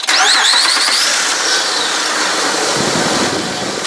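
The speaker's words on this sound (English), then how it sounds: "I start it up." A 2006 Honda Ridgeline engine cranks with a whining starter and catches, then settles into a steady, loud, close idle with no talking.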